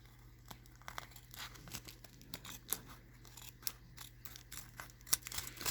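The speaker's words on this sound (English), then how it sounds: "We can trim this side too." Scissors trimming paper for a craft shaker tag, quiet close snips and crinkly rustles scattered irregularly over a faint steady hum, with no voices.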